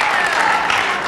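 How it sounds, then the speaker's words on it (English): A small group in a classroom or lesson cheers and claps for a classmate, a dense burst of applause with voices mixed in, close and loud, sustained briefly. "let's cheer for Swag Master."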